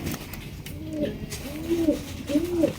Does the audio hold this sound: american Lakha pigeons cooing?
yes